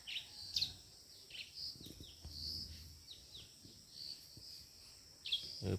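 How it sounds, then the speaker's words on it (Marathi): Birds sing faintly in the distance on a village morning, with scattered high chirps and short trills over a quiet outdoor hush. "पक्ष्यांचा आवाज येतोय"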